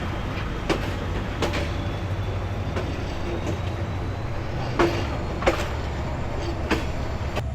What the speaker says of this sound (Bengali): এই যে ছেড়ে দিল বগুড়া রেলওয়ে স্টেশন থেকে